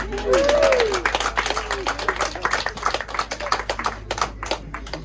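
Wedding guests cheer and clap for the mums, a steady patter of applause with scattered whoops, heard close and loud while voices talk over it at the start.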